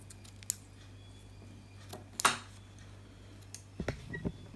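Scissors snip through a section of netting outdoors, a few sharp close cuts with a dense burst of crisp snipping in the middle and softer handling clicks near the end, over a steady low background hum.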